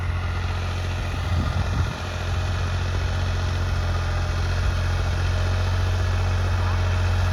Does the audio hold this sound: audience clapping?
no